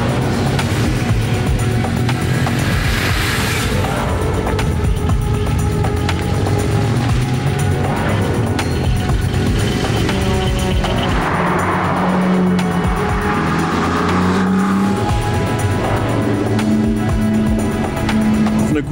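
Cars lapping the Bilster Berg race track, loud continuous engine roar rising and falling with gear changes and tire noise throughout.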